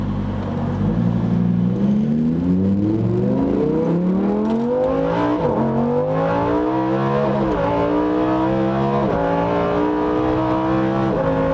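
A Lamborghini Huracán Performante in Corsa mode accelerates hard, its engine climbing through the revs in loud rising sweeps, briefly dipping at each gear change before pulling up again, continuous and close with no talk.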